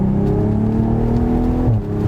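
A 2020 BMW Z4 M40i engine whines steadily and loudly while driving, its pitch slowly climbing before a brief dip near the end as the motor drones on.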